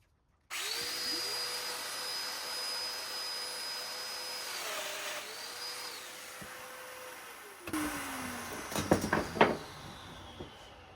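Domino joiner cutting an 8 by 50 mortise for an outdoor coffee table, its steady motor whine running alongside a dust extractor for about seven seconds, then rough, crackling bursts as the cutter plunges into the wood.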